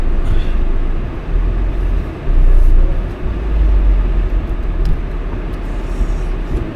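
A car rolls along a rural dike road, its low engine and tyre rumble steady and close, swelling briefly as it moves over the uneven surface, with no talking.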